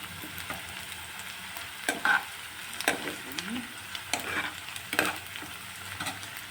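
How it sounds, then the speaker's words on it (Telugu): Green chilies frying in oil in a pan for tomato masala curry, stirred with a spatula: steady close sizzling broken by sharp scraping strokes and taps at irregular intervals, with no voices. "గోల్డెన్ కలర్ అయ్యే వరకు కొంచెం కలుపుకోవాలి, లేదంటే మాడిపోతుంది."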